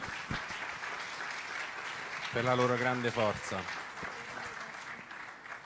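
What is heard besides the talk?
audience applause at an award ceremony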